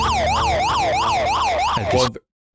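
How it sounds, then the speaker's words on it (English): A loud wailing siren sweeps up and down in a steady, repeating rise and fall, then cuts off abruptly near the end. "that was a siren"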